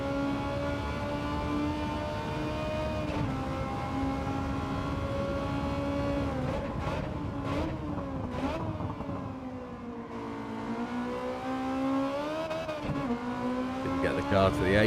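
Race car engine in a time-trial racing video game, a steady droning whine that rises and falls in pitch through gear changes and corner exits, loud and continuous with a few brief sharp bursts.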